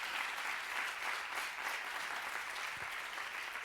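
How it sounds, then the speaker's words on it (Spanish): Sustained applause from a conference audience at a workshop event, steady and full for the whole stretch with no voices over it. "pido un aplauso para la organización de este evento"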